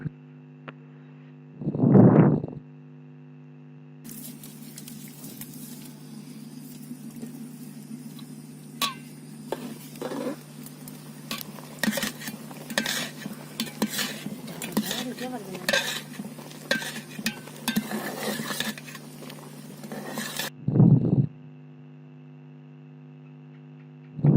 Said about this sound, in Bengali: উতলাচ্ছে এখন। উতলানোর সময় একটু নাড়াচাড়া করতে হবে